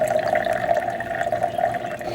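Water trickles steadily from a gravity-fed filter into a cup, a continuous close splashing stream with a ringing tone as the cup fills, no voices.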